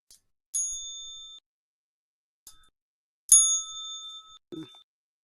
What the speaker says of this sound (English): Bell needs a tune-up.